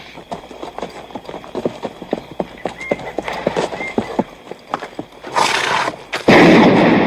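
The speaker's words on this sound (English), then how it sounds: "Sure was a lot of shooting." A western film scene carries rhythmic horse hoof clip-clops and scattered sharp shots, building to loud bursts of gunfire near the end.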